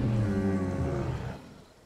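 A Gallimimus dinosaur calls in the survival game The Isle, a single loud, low, drawn-out lowing cry that fades away after about a second and a half.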